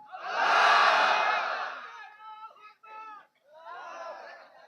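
A large crowd at an Islamic sermon gathering roars back in unison to a takbir call, a loud massed shout that swells and fades, followed by a few shorter voiced calls and responses.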